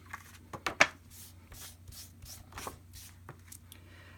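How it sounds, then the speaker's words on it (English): Sparkly color is burnished onto a card by rubbing back and forth, giving a series of soft, rhythmic scraping strokes close up and fairly quiet, with a couple of sharper taps near the start. "You go back and forth and just kind of burnish it in."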